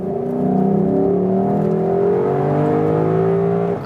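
A Lexus LC 500 with its 5.0-litre V8 pulls hard at full throttle from about 50 km/h, its engine note climbing steadily in pitch through the gears, loud and close with no talking.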